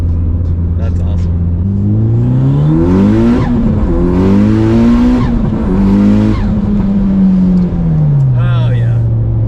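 A Mitsubishi Lancer Evo X with a straight-pipe exhaust revs loud and close, its engine note climbing and falling in several sweeping pulls, with voices nearby.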